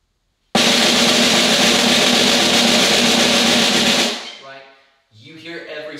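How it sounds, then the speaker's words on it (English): Loud forte buzz roll on a snare drum, a dense sustained press roll lasting about three and a half seconds before stopping abruptly, followed by a faint ring-off and brief quiet tapping. "they'll do a good forte buzz roll for me"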